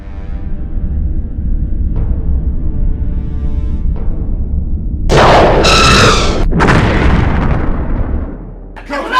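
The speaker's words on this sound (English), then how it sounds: "You may open fire. Reduce that garbage pile to atoms." Starship weapons opening fire in a Star Trek battlecruiser battle, heavy booming blasts and explosions loud over a low engine hum, with a few seconds of bright crackling bursts.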